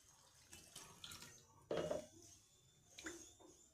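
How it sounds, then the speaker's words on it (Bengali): A whole fresh rohu fish being rinsed in water, with quiet splashes and sloshing in bursts and one louder rush of water midway, close by with no talking. "এরপর আমি আরেকবার মাছটাকে ধুয়ে নিচ্ছি।"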